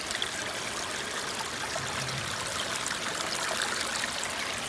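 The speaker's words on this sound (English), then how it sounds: "Some more water coming down this way." Steady flowing water runs through a gap in a breached beaver dam, an even, nearby burbling rush that stays constant and carries no speech.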